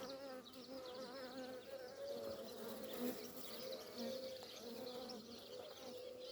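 Honeybees swarm and buzz around beehive frames as the hive is opened, a dense, steady droning hum with overlapping wingbeats close by, filling the whole stretch with no speech.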